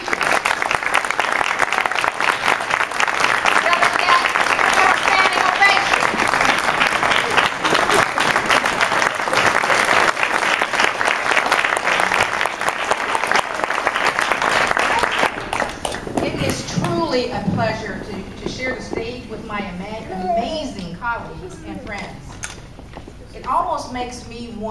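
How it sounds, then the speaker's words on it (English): A graduation audience bursts into loud, sustained applause that fills the hall for about fifteen seconds before fading as a speaker begins talking again. "I would like for each of you to give them an applause for this whole year."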